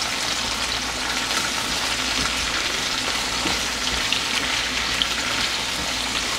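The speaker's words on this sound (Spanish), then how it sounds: "Le dejo caer el ajo. Listo, vamos a sofreír, que esté bien sofrito." Garlic and chiles sizzle steadily in a hot pan as a sofrito for a shrimp and vegetable broth, a dense, continuous frying crackle with no pauses, close and fairly loud.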